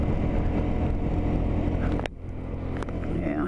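A Suzuki Burgman 200 scooter rides along a mountain road, its engine and wind rumbling steadily and loudly up close, then easing off briefly before carrying on.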